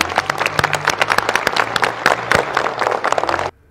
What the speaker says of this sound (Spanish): un aplauso para todos y a seguirle.